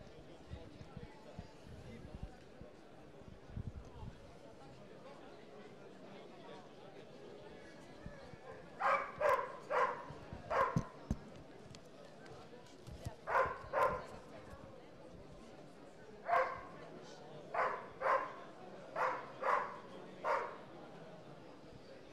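Dog in attack training: a series of loud, sharp barks in short bursts of two to four, spread through the second half, preceded by quieter rustling and background noise.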